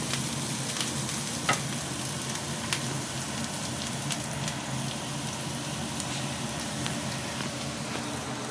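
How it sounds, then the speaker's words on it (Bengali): Chopped onions frying in a pan until reddish-brown, ready for eggs to go in for a home dinner of egg bhujia; a steady close sizzle with a few faint clicks from stirring. "পেঁয়াজটাকে একটু লাল করে ভেজে এবার ডিমটা দেবো"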